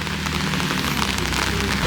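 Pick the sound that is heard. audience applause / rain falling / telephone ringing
rain falling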